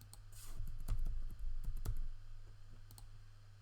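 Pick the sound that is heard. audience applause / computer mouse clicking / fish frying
computer mouse clicking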